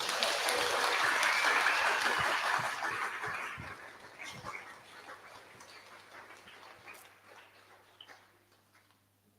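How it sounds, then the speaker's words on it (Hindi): Loud clapping from a congregation during Holy Eucharistic adoration in a church, strongest at the start and gradually thinning into scattered claps over several seconds. "तो हम प्रभु को जोर से ताली बजाएंगे।"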